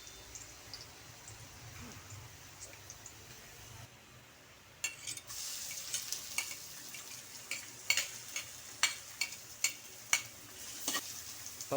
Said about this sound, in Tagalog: Papupulahin muna natin mga kabayan yung luya at saka bawang.